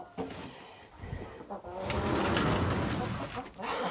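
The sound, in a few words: Brahma chickens clucking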